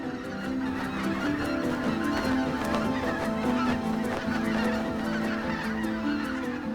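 A large flock of greater white-fronted geese rests near power plant towers, a loud, dense, continuous chorus of overlapping honks and yelps with no talking.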